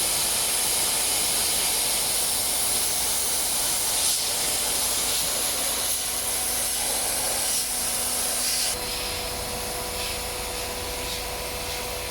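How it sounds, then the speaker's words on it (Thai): A steady, loud hiss of pressurized water spraying against the front radiator of a Chevrolet Sonic, continuous throughout, with a slight shift in tone partway through. "ฉีดล้างทำความสะอาดแผงหน้าหม้อน้ำให้นะคะ"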